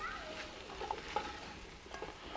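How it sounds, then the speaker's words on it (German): Bell peppers and tomato paste frying in a pan while being stirred, a soft steady sizzle with occasional scraping clicks of the spoon, fairly quiet and close. "Dann geben wir noch die Paprika dazu und das Ganze lassen wir jetzt noch mal so gute 5 bis 10 Minuten hier unter ständigem Rühren braten"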